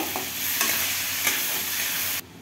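A spoon stirs aloo posto, potato in poppy seed paste, in a pan, a close, steady scraping that runs over a soft sizzle and stops abruptly near the end.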